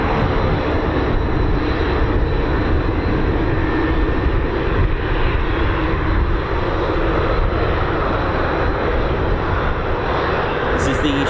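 Shadow R1 aircraft with a Pratt & Whitney PT6 engine departing RAF Waddington, a loud continuous engine roar holding steady throughout, close and dominant.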